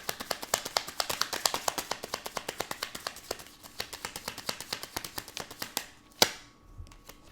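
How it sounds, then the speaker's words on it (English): Rapid crisp riffling and tapping of tarot cards, a steady run of sharp clicks, close up, ending with a louder snap and a soft thud. "I'm going to continue to shuffle because she just literally just jumped."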